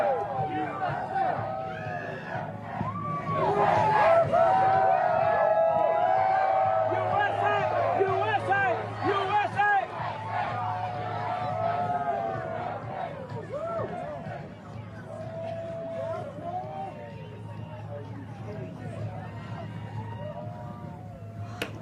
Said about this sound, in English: Let's listen into the crowd for a moment as we stay with this.